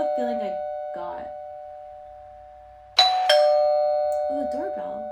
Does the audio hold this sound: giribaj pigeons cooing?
no